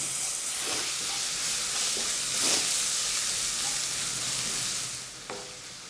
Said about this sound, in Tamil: சேர்த்து அதையும் வதக்கி விட்றேங்க அதையும் வெங்காயத்தோடு சேர்ந்து நல்லா வதங்கட்டேன்